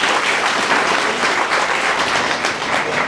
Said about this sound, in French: Applaudissez pour ces parrains.